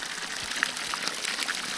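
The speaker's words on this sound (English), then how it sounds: "this is the first running water I've seen." A small stream running along a trail in the Black Hills, a steady bright trickle and gurgle with scattered splashes, close by and alone.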